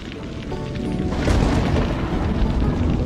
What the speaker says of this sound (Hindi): ये बारिश तो फिर से शुरू हो गई